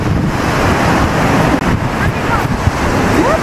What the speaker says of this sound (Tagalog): Hindi sila makaswim kasi nga malamig at ang lakas ng alon.